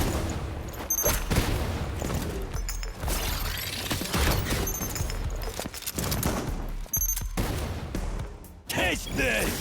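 Rapid volleys of gunfire crackle through a science-fiction action game battle, dense bursts layered over music and effects, with a voice calling out between shots.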